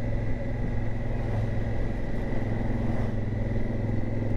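A motorcycle engine runs steadily and close, a constant low rumble with a droning hum that holds an even level throughout, with no revving or speech over it.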